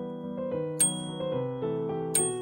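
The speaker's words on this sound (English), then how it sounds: "This one even has a little bell." Small handlebar bell on a Xiaomi electric scooter rung twice, each sharp ding ringing out close and clear over a sustained, humming tonal background.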